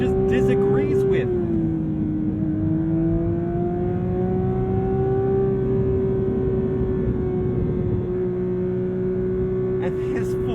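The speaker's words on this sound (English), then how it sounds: "this 4-liter flat six sings such an incredible" A 2022 Porsche 911 GT3's 4-liter flat-six drones steadily while driving, a smooth sustained tone that dips slightly early on and then holds at even revs, heard from inside the car.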